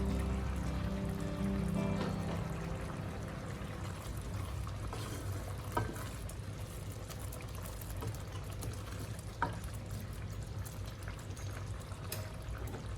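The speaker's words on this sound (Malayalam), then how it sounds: "നന്നായിട്ട് തിളച്ചിട്ടുണ്ട്." Vegetable kurma bubbling in a pot, a steady close simmering wash with faint stirring clicks and a couple of brief knocks, no talking.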